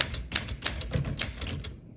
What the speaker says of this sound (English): There's your bell saying, hey, you're at the end of your margin.